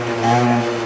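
A 20-year-old Vino moped engine revs as the throttle is worked, a loud, close, buzzing two-stroke drone that rises slightly in pitch and then eases, heard alone without talking.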